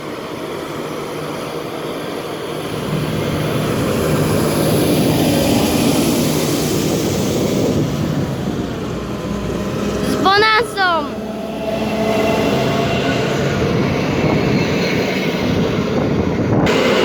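A train arrives at Gdynia Chylonia station in Poland with a loud, steady rumbling roar, and a sharp squeal of brakes or wheels cuts through midway.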